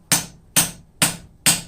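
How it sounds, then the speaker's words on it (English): Four evenly spaced, sharp ringing hammer blows strike twisted steel stock during forging of a daffodil stem, each loud and close with a short metallic decay. "roll your twist and hammer and progressively move up the section and cross section of stock"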